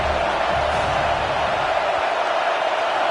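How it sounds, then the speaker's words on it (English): Dense, steady roar of a stadium crowd at a football game on third down, loud and unbroken throughout the short stretch with no distinct voices. "Third down and the crowd really getting into it."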